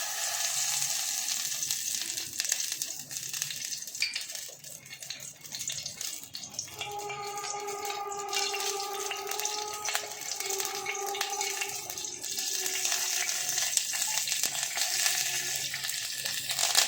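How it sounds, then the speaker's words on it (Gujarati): Ghee heats in a pot for tempering Gujarati kadhi, giving a continuous close sizzle and hiss, with a faint tonal whine in the middle stretch. "હવે પહેલાં ઘી રેડીશું."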